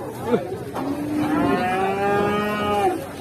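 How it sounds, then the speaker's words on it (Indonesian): A large Limousin cow lets out a long, loud, wavering moo at close range, with brief voices near the start. "Sapi ini guys, limosin ya."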